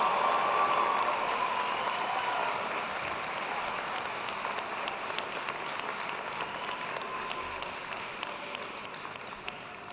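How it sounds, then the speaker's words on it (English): A large audience at a university business school commencement applauds the finance graduates with sustained, dense clapping that thins slightly as it goes on, with faint crowd murmur underneath. "Now it's time to clap for all those finance majors who just came through."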